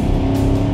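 Car driving fast around the Bristol Motor Speedway track at about 80 mph, a loud close steady engine drone with wind rush, very brief.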